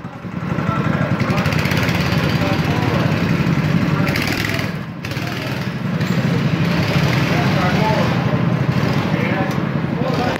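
Go-kart engine pulling out onto the Lonato karting track with a steady, loud buzzing drone that dips briefly midway, while people talk over it.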